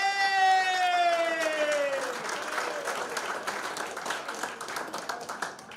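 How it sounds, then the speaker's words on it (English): Comedy-show audience breaks into loud, sustained applause with some cheering, a rolling wash of many hands clapping close and steady, while a voice with tonal calls rings out over it at the start. "Let's put our hands together. Let's clap it up."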